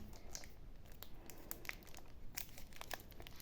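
Plastic wrapper of a Bajeczny candy bar being torn open, faint close crinkling and crackling with small sharp rustles over a few seconds.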